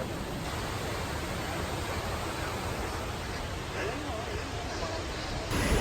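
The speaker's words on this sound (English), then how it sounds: "I'm gonna yell over the waterfall" Waterfall on the Appalachian Trail near Amicalola, a steady, loud broadband roar of falling water that fills the whole clip without letup, close by and constant.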